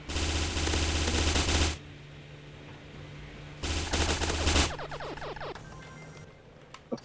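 Loud automatic gunfire from a Transformers video game rattles out in two sustained bursts separated by a quieter gap, followed by scattered game effects. No one speaks.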